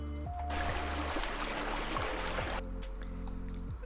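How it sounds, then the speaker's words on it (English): A steady rush of flowing water from an Unreal Engine 5 sound demo fills the middle of the clip, with a low rhythmic hum underneath before and after. "and another of the water flowing"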